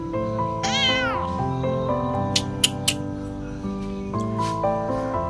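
A kitten meows repeatedly while being bathed, high and plaintive, with several cries rising and falling over a low background hum, close by.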